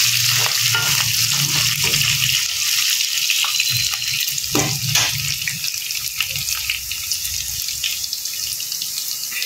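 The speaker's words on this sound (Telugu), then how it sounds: "కొద్దిగా ఒక ఫ్యూ మినిట్స్ సాటే చేసుకొని ఆనియన్స్, మిరపకాయలు, పచ్చిమిర్చి వేస్తాము." Onions and green chillies sautéing in a pan for poha upma, a steady loud sizzle with scraping stir strokes and occasional clinks throughout.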